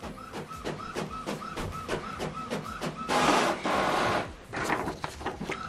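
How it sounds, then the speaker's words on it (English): An Epson WF Pro printer runs a test page, with a steady, rhythmic mechanical clatter of regular print-head passes, then a louder burst of paper feeding near the end, close and clear with no talking. "print test page. This is to show you that it's connected."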